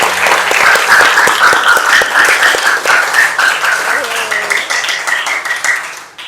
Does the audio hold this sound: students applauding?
yes